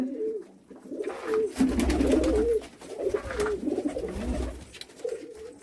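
Pigeons at a bird sale in Jammu coo in repeated throaty, rolling phrases, several birds close by overlapping in bursts with short pauses between, no talk.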